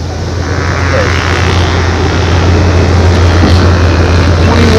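Airplane engine drones steadily and loudly throughout, a broad roaring hum with buffeting wind, while voices talk faintly underneath.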